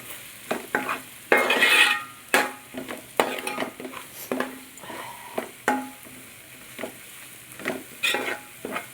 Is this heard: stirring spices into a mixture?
yes